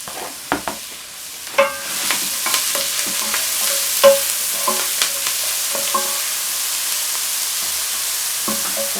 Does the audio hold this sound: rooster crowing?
no